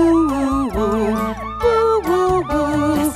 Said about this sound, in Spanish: La sirena del camión hace